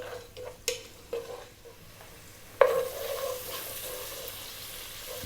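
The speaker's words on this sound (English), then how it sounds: "we're going to go for about 4 to 5 minutes on and above medium heat, stirring often" Rice for an aromatic dish stirred in a pan over medium heat: a few distinct scraping strokes, then a soft, steady sizzle at close range, fairly quiet and without talk.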